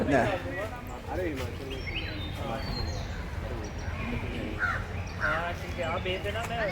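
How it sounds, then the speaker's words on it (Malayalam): Several birds call over one another at Sim's Park, Coonoor, crow-like caws mixed with chirps, fairly close, while a person talks in the background. "പലതരം പക്ഷികളുടെ ശബ്ദങ്ങൾ കേൾക്കുന്നുണ്ട്."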